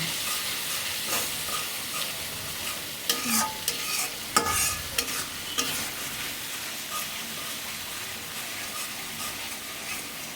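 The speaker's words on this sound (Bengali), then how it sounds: "এখন আমার মশলাটা একটু কষাইয়া ভালো মতো তারপরে আমি তরকারিটা দিয়ে দেব" Masala spice paste sizzles and fries continuously in a pan while a spoon stirs and scrapes it, with a few sharper clacks of utensil against metal over the steady hiss.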